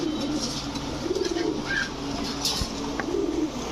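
Rajshahi Giribaj tumbler pigeons coo repeatedly in low, throaty bursts, close by, over a steady background hum.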